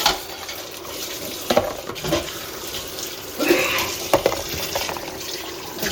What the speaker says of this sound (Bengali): চলো কিছু বাসন আমিও ধুয়ে নিই